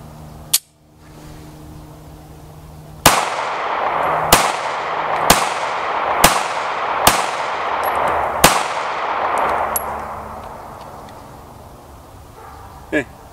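A Springfield 911 pistol in .380 ACP firing full metal jacket rounds: six sharp, loud shots spaced about a second apart, each with a bright crack and a short echoing tail.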